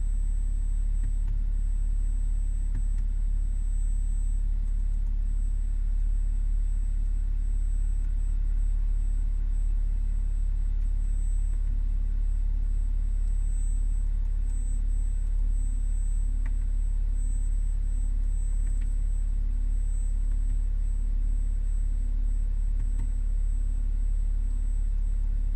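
Steady low rumble of a BMW X6 40d diesel engine running, a constant even drone with no clear revving, heard alone without voices.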